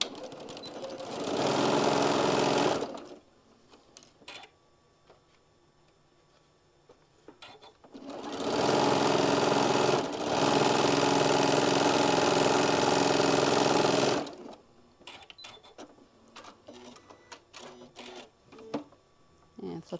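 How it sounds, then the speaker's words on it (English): Sewing machine stitching across fabric for a drawstring project in two sustained bursts, about six seconds each, separated by a pause with light handling noises and a close whirring motor, with no talk. "we're just going to stitch all the way across"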